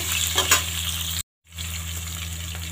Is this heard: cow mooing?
no